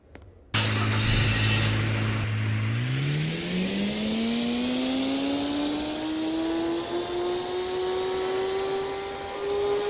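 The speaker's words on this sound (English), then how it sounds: "hear what this vehicle sounds like on startup, upon driving" A Roblox Jailbreak lowrider engine cranks to life with a loud roar, then revs steadily higher in pitch, droning continuously up close.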